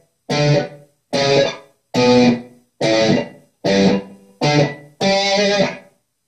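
Distorted electric guitar playing a riff as seven loud, evenly spaced chord stabs with brief gaps between, alone with no voice.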